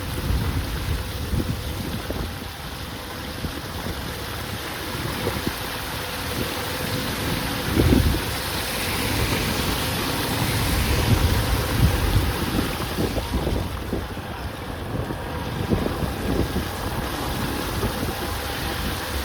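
Heavy rain pours steadily across flooded town streets in Bhikhi, a dense continuous wash of water with low rumbling gusts, broad and unbroken throughout without any voices.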